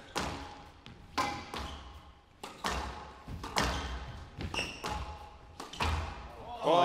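A squash ball is struck hard with a quick forearm and wrist snap during a men's squash match, producing sharp thuds and slaps that repeat at an irregular pace, heard amid court noise with talk over it.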